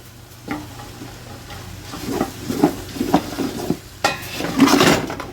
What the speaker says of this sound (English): give the garlic stir in there